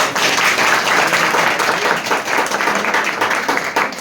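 An audience claps together, a dense sustained patter of many hands that stays loud throughout and eases slightly toward the end.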